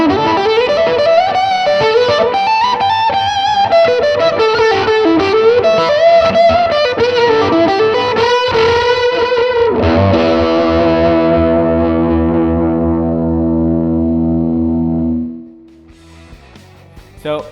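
A distorted electric guitar plays a sustained lead line, then lets a final chord ring out and fade into near silence.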